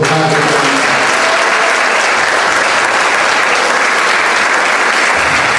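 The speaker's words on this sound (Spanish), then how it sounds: "Y pido un aplauso para todos ellos que son parte." A concert hall audience at a municipal band's Santa Cecilia concert gives loud, continuous applause, a dense wash of clapping from a close, full crowd throughout.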